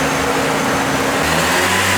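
A car engine runs steadily, then its pitch shifts as it revs up at the start of a test drive, testing a transmission additive on a bad transmission; loud and close, no voices.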